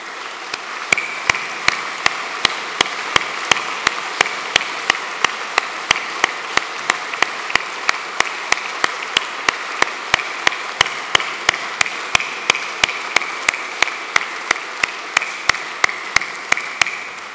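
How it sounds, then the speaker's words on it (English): Applause from 242 people filling a great hall at a Corps of Royal Engineers evening, heard as a steady, dense roll of clapping with sharp regular clicks running through it, sustained at even loudness throughout. "The applause that you have heard this evening from all 242 people in this great hall"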